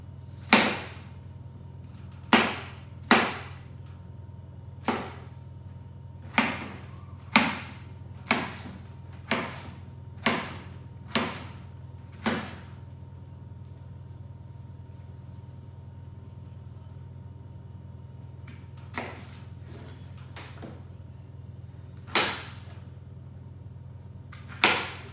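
Knife chopping a courgette into chunks on a cutting board: a run of about ten sharp, evenly spaced thuds, then a pause and a few more scattered cuts, close and clear with no talking.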